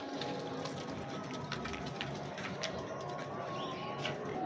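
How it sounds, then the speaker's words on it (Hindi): Lakha and Sialkoti pigeons coo softly in a loft, low and intermittent beneath a steady hum of background noise. "बड़े बड़े अच्छे कबूतर हैं"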